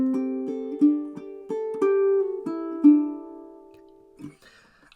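Close fingerstyle ukulele playing the sliding D passage of a song: a steady run of plucked notes and chords in even rhythm, each ringing briefly, with a slide, then a soft final pluck and quiet tail.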